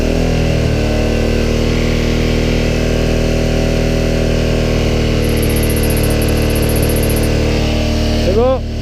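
Honda Africa Twin motorcycle engine running steadily at close range with a constant droning hum while its alternator is tested, a rising rev sweep near the end. Talk in French is heard over the engine.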